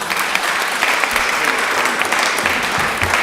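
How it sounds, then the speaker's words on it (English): A meeting audience gives a steady round of applause, a dense continuous wash of many hands clapping at close to moderate distance, holding level without pause. "can we have a huge round of applause for Henry?"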